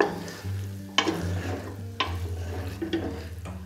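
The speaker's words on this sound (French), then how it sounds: "On met le feu à fond, faut bien faire dorer ça, faut bien faire dorer la viande" Pork and onions browning over high heat in a pan give a steady loud sizzle, broken by a few sharp clattering stirs about once a second.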